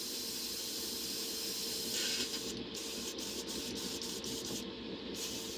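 An airbrush blowing out clean air after flushing, giving a steady close hiss of escaping air that runs without a break, with a few faint ticks and a short flutter near the end.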